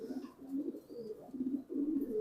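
Racing pigeons of the Afsan grizzle racer line coo steadily in their cages, a low, close, repeated throaty warble with brief pauses between phrases and no talk.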